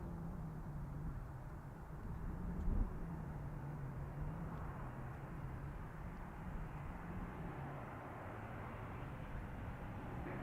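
A Boeing 737 MAX 9 arriving from Reykjavik at Zurich Airport runway 14, heard as a steady distant jet engine rumble and broadband roar that holds evenly throughout, with no voices.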